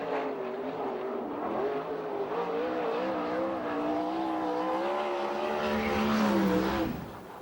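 A USAC/CRA sprint car races around the track at Perris, its engine roaring in a loud sustained howl that rises and falls in pitch with the throttle, swelling near the end before fading slightly.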